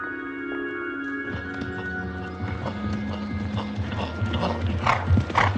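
Horse hooves clip-clop in an uneven rhythm, growing louder, with a whinny and a mechanical whirring at the start.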